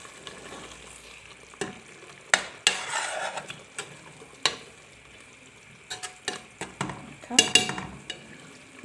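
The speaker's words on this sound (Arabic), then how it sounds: "نقلي هذه مليح الطماطم هكا مع المكونات نتاعي" Tomatoes with spices and harissa fry in a pot for a cauliflower stew, a steady close sizzle broken by sharp scrapes and clinks of a utensil stirring against the pot.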